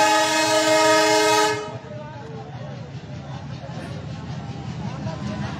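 A train moves through a level crossing near Khoksa railway station in Kushtia district, Bangladesh, opening with a loud, sustained horn blast of about a second and a half that gives way to the steady close rumble of the rolling wagons.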